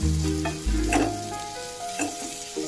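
Chopped tomato with a pinch of salt sizzles steadily in a hot pan while a spoon stirs and scrapes it a few times, loud and close.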